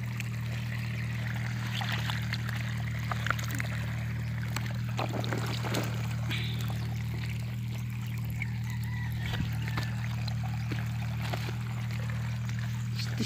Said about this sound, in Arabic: دابا غيبقى شويه بشويه عاد كيتجهد الموتور